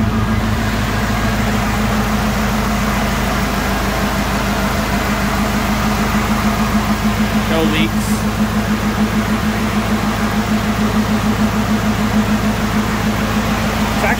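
Ford engine idling in a homemade go-kart, a steady loud low rumble with even pulsing that runs unbroken, while someone briefly speaks over it.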